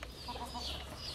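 Backyard hens clucking, egg-laying layers that produce green eggs: a short burst of soft, close clucks over a steady background hum.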